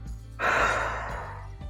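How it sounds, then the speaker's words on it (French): A deep breath drawn in and then pushed out forcefully in a relaxation exercise, a single broad rushing breath that swells quickly, holds and fades slowly, close and alone. "Vous pouvez inspirer profondément pour vous dynamiser et souffler fortement."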